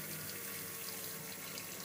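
Cold water runs steadily from a tap, rinsing a Mary Kay facial cleansing brush under a sink faucet. The broad, even hiss is loud and close and continues unbroken, with no voices.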